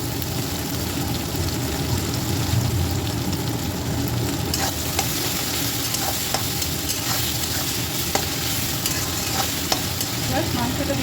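Ginger paste goes into whole garam masala, cinnamon, cloves and cardamom frying in oil for mutton kaliya, giving a loud, dense continuous sizzle with occasional light clicks of a stirring spatula.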